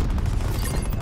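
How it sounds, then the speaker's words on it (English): Grenade blast in Call of Duty: Black Ops 4, a dense, rumbling low boom filling the whole second at steady loudness, alone with no talk. "Throw a nade."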